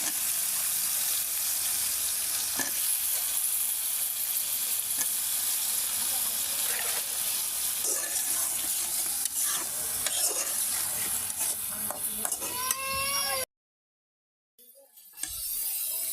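Pointed gourd and potato fry in a spiced masala for a carp fish curry, giving a loud, steady sizzle with repeated stirring scrapes throughout, before a brief silence and a short burst of sizzling again.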